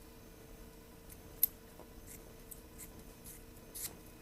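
Scissors snip a rope strand close to a finished long splice, a few faint, quiet clicks and small cuts over a soft background hum, with no talking.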